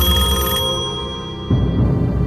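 An electronic telephone ring sounds loud and steady, with harmonic tones that shift partway through, and no voices.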